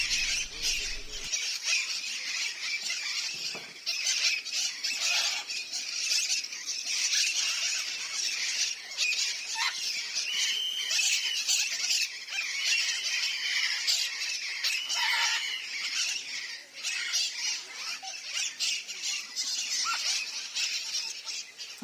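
Parrots at the zoo in Doué-la-Fontaine keep up a dense, continuous chorus of shrill squawks and squeals, with many birds calling at once at close to middling distance throughout.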